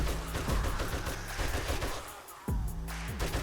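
Rapid automatic gunfire in 7 Days To Die sprays in continuous bursts, loud and close, with a brief lull before the firing resumes.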